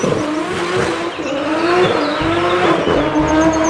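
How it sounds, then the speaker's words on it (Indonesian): A toy race car makes continuous car-like engine and tire sounds, loud and close, with no talking over it. "Yang ini ada mobil balap."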